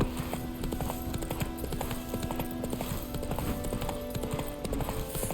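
Roach the horse trots in The Witcher 3 video game, a brisk, steady clip-clop of hooves in a continuous rhythm over a game soundscape, with no talking.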